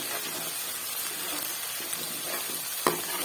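Onion, ginger and garlic paste frying in a pan, giving a soft, steady sizzle with a few faint stirring clicks and one sharper tap near the end.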